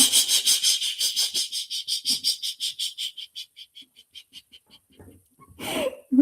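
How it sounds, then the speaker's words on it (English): Deep, audible inhalations during a group breathing exercise within a laughter session, a series of rhythmic breaths repeating steadily and then fading quieter, ending with a louder, breathy exhale-like burst. "Breathing in."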